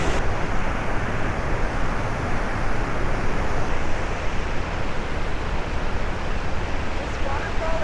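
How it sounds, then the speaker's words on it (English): The Iguazu Falls at Devil's Throat, a massive waterfall, roars in a dense, steady, full-spectrum rush that never lets up, loud and enveloping from close by, with no talk over it. "This waterfall is so beautiful and so powerful. Look at the power of it. The sound is like thunder."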